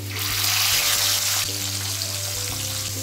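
Koi fish frying in hot mustard oil in an iron wok, a steady dense sizzle holding close and loud throughout, with faint low kitchen hum beneath.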